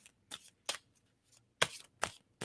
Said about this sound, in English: just tell me when to stop shuffling on that